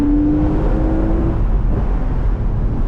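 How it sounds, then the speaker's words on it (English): A Porsche Boxster engine drones loudly up close through a rev-matched downshift, a brief sustained engine tone fading into a rough steady rumble as the car drives on. "That was a perfect rev match downshift."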